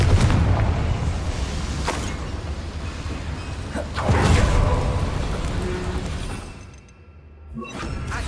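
Confringo explosive spell blast in Hogwarts Legacy, a loud booming detonation with crashing debris and rumbling whooshes that surge, fade into a brief lull and swell again.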